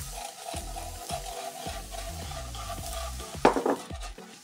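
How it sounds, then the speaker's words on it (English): Cornstarch being stirred into a frying-pan gravy made from the fat and flavor left after frying bean balls, giving a steady soft scraping and swirling with a louder clatter of utensil against pan near the end, up close with no talk. "Stir in the cornstarch."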